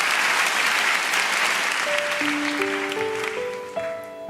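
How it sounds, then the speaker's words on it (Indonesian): Church congregation applauding the praise and worship team, a dense, steady wash of clapping throughout; sustained keyboard notes enter and step upward in the second half. "Boleh tepuk tangannya di extend buat tim praise and worship kita."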